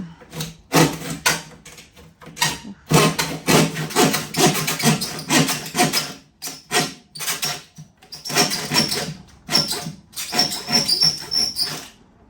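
A handsaw cuts through wood to free a stair step, its back-and-forth strokes rasping in bursts with short pauses between them.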